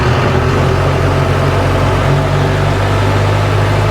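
A truck diesel engine idling after starting on a night loading stop, a loud, steady low rumble with a constant hum running throughout, close and alone with no talk.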